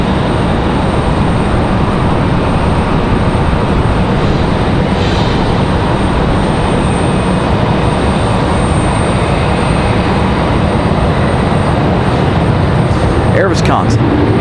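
Air Wisconsin airliner departing Raleigh-Durham airport, a steady broadband engine roar holding loud and constant throughout, with a voice talking over it.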